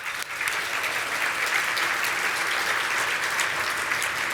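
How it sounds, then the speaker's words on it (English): An audience at a leadership dinner breaks into sustained applause, a dense, even clapping that starts abruptly and continues steadily at full strength. "Join me in a round of applause."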